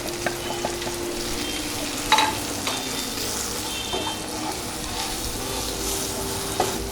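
Tomato, spice powders and salt are sautéed for dal kuzhambu, with a close, continuous sizzle and repeated stirring scrapes and spoon knocks against the pan.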